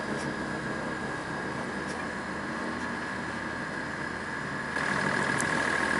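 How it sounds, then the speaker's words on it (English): A noisy fishing boat engine heading out of a harbour, a steady low droning rumble heard from a following sailing boat, continuous and even, rising slightly near the end. "we were following a really noisy fishing boat out of the harbour"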